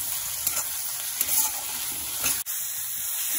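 Chopped onion with a pinch of salt cooks in a pan over a medium flame for homemade pizza sauce, giving a steady close sizzling hiss broken by a few light stirring scrapes and a sharp click near the end.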